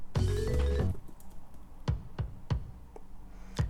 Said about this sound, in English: There's also a track called Kick Build Up,